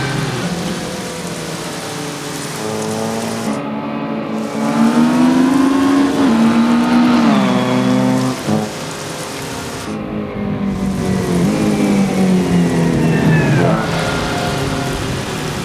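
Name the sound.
race cars driving at Silverstone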